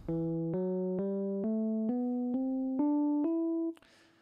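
An E natural minor scale climbs eight notes in even steps, each sustained tone about half a second long and played alone, ending with a short noisy burst.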